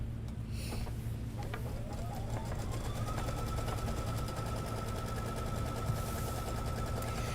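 An industrial sewing machine runs a squaring stitch for a loop-fringe tile scene, humming steadily and continuously at close range with a tone that rises and then holds, with no talking.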